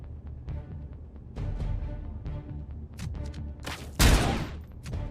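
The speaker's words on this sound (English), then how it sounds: "I didn't hear because there was lots of gunfire." Gunfire from the Robocop arcade video game: rapid bursts of shots and explosions over a busy game soundtrack, with one loud blast near the end.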